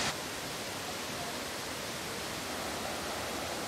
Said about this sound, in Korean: 안탈리아 시내에서 제일 큰 폭포인 듀덴 폭포는 높이가 20m로 수량이 풍부하기로 유명하다